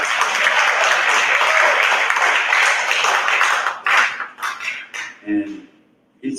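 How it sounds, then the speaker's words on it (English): Applause from a school science symposium audience, with dense clapping for about four seconds, then breaking into scattered claps and a voice before fading out. "You can clap for it."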